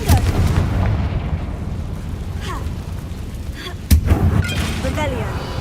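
Confringo blasting spell exploding in the Hogwarts Legacy video game, a booming burst near the four-second mark amid continuous rumbling game effects and a talking voice throughout.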